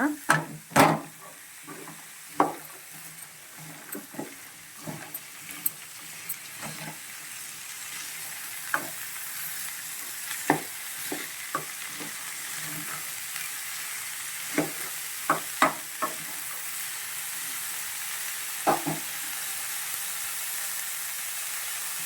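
Chopped beans and onion sizzle steadily in a pan while a spoon stirs them, with irregular scraping clacks against the metal over a constant close frying hiss.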